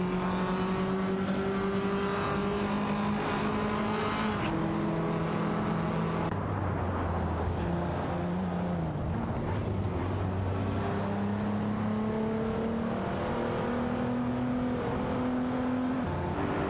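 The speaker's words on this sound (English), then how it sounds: "Green Apple racing car dashing away." Racing car engines in an AI racing video game drone steadily throughout, several overlapping engine tones rising and shifting pitch as cars accelerate and change gear, loud and continuous with no talk.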